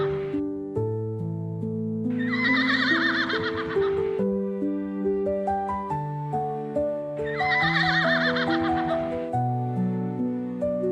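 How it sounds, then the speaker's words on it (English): A foal's high whinny rises twice over a steady bed of cheerful music, each neigh lasting about two seconds. "here's a cute foal, and it's a baby horse"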